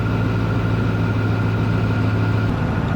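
Vehicle engine idling while its alternator charges a Bluetti AC200L battery through a Charger1 alternator charger, a steady loud low hum with a constant tonal drone and no variation.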